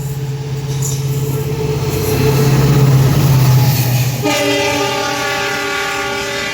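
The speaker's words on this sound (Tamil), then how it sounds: "டீசல் லோகோ தான் ஃபுல் பண்ணிட்டு வரோம் நினைக்கிறேன்." A diesel locomotive hauls the Tambaram–Rameswaram express near Sudiyur station in India, with a loud, close rumble and a sustained tonal horn blast whose pitch shifts partway through, over continuous rolling noise.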